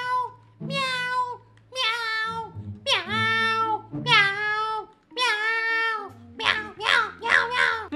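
Repeated cat meows from a video game cat in GTA 5, about seven drawn-out calls in steady succession, loud and close, ending in a quicker cluster of higher mews.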